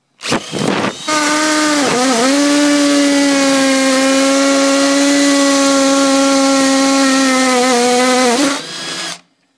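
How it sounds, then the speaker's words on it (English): A power drill whines at a steady high pitch as it bores through the metal lock of an arcade game, dipping briefly under load, then spins down and stops. "drilling a arcade game block"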